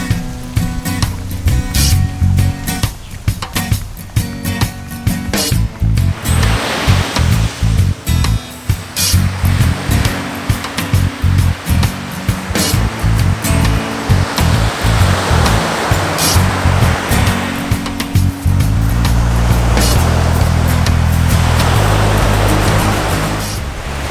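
Surf breaks continuously on a beach beside a lagoon, a loud, close roar of waves with rising and falling washes and no voices.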